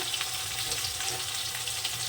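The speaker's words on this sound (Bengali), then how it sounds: "আলুটা ভাজা হয়ে গেছে" Potatoes frying in hot oil in a pan, an even, dense crackling sizzle that holds steady from start to finish, close and fairly loud with no voices.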